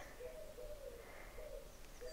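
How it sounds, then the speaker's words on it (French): Soft, repeated bird calls, low cooing or hooting tones, over a quiet spring outdoor ambience. "Les oiseaux nous accompagnent."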